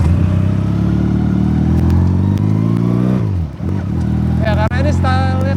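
A Benelli PE250 cafe racer motorcycle idles loudly and close by, then revs with a falling pitch sweep and a few rising throttle blips near the end, with a voice heard briefly over it.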